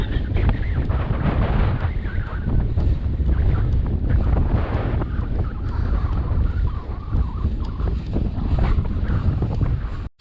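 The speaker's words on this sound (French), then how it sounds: "il y a du vent, il y a du vent" Strong, steady wind roars and buffets the microphone throughout, with a low rumbling rush that never lets up until a sudden cut at the end.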